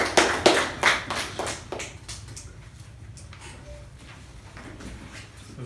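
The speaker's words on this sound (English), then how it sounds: "A round of applause, please." Applause at a Toastmasters meeting starts with a burst of sharp, close claps that fade quickly within about two seconds, leaving a quiet room with faint background noise.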